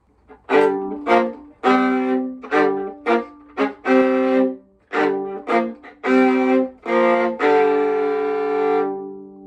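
A viola plays a short, punchy rock riff of separate sustained bowed notes in a stop-start rhythm, ending on a longer held note, with no talking.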